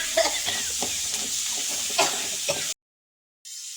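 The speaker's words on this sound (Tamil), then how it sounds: "வெங்காயம் போட்டுக்கோங்க பச்சை மிளகா கொஞ்சம் போட்டுக்கோங்க கருவேப்பிலை கொத்தமல்லி போட்டுக்கோங்க நல்லா வதக்கிட்டு" Sliced onions, green chilies, curry leaves and coriander sizzle steadily in a hot pan, a continuous close hiss with faint stirring scrapes, then a short silence before the frying resumes.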